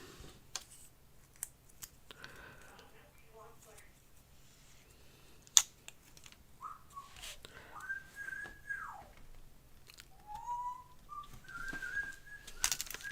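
Pet bird chirping and warbling indoors, a series of rising and falling whistled notes and short calls, faint and close, with scattered small clicks and taps in the room.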